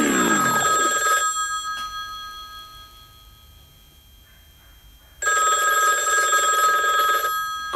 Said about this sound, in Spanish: ¿Cómo sabían que iba a sonar el teléfono?